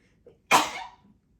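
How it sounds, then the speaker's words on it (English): A single sharp sneeze with a short breathy intake just before it, close to the microphone and loud against a quiet room. "I need to sneeze"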